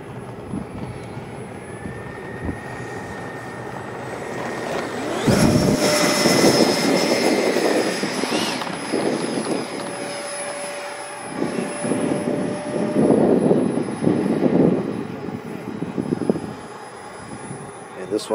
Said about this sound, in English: One here in the air is Brent's Luftwaffe MiG-29.